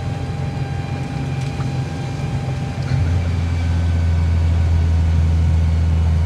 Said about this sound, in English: Going downhill,